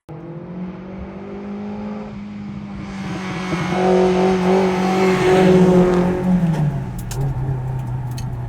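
A Nissan 240RS Group B rally car engine droning under load while driving, the pitch climbing and swelling louder as it accelerates, then easing back near the end.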